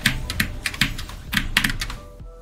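Rapid clacking keystrokes on a Wooting computer keyboard, played close and fairly loud in irregular bursts of several presses, with no voices.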